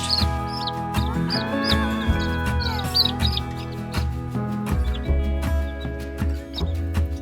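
A newly hatched chick gives a run of high, thin peeps, repeated chirps heard under steady background music.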